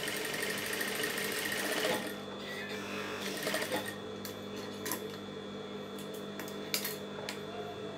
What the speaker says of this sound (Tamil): இது வந்து உள்பக்கத்தால் மடித்து தையுங்க.